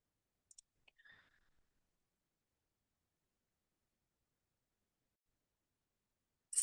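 A computer mouse in a quiet room gives a few soft, isolated clicks early on, then a long silence before one sharper, louder click at the very end; no one speaks.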